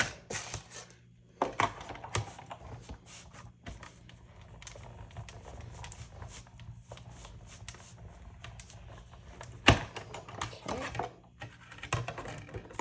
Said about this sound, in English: Okay, so first we're gonna emboss it.